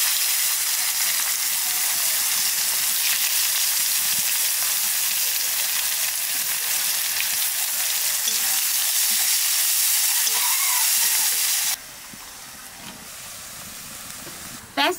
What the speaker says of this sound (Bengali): পেঁয়াজটা একটু বাজিয়ে নিচ্ছি